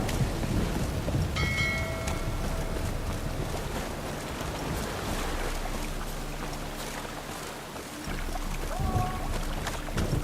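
Steady rain with low rumbling thunder in The Witcher 3, a dense wash of rainfall filling the scene with a few faint tonal game sounds drifting in, no voices.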